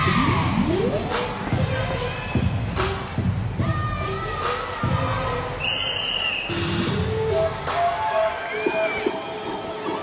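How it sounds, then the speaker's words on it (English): Teammates cheer and shout enthusiastically from the sidelines during a gymnast's floor routine, a busy crowd of voices rising in bursts over a noisy arena with scattered thuds and a commentator talking. "Teammates in the background cheering her on, doing her floor routine right along with her."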